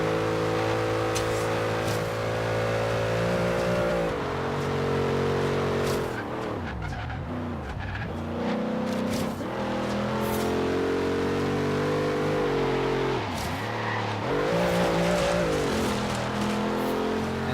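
A police cruiser racing in Forza Horizon 3, its engine droning loudly and continuously, revving up and down through gear shifts with brief tire squeals during corners.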